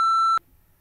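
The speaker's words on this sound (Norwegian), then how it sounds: "Ja, jeg piper over siden." A single steady censor bleep, a pure high tone lasting about a third of a second, covers a spoken name and then cuts off sharply into near silence.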